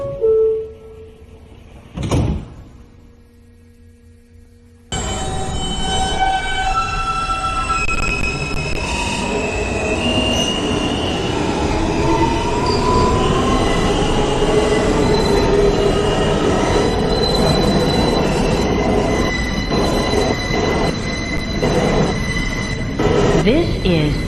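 A New York subway N train, a Brooklyn-bound Broadway Local between Coney Island and Astoria-Ditmars Boulevard, runs loud and close, a steady roar of wheels and car rumble with sustained high metallic wheel squeals, after a brief quieter opening.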